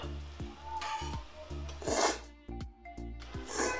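Ground spices (cumin, coriander, chili, turmeric and ginger powder with a pinch of sugar) stirred into vegetables frying in a pan. A soft sizzle sits under repeated scraping strokes of a spoon against the pan.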